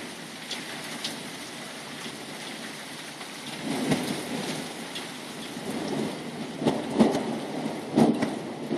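A thunderstorm on the coast: steady rain patters throughout while low rumbles of thunder swell and roll in from about four seconds on, with several sharp peaks near the end, no voices.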